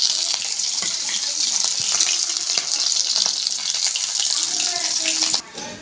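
Prawns fry and sizzle in hot oil in a village kitchen, a loud, continuous crackling hiss with bursts of spatter as they are stirred, dropping off abruptly just before the end.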